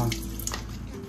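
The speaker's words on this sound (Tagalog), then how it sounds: "Kailangan natin siya hugasan ng mabuti." Running water rinses a sanded motorcycle CVT cover from a Yamaha Aerox, a steady close splashing stream for about a second.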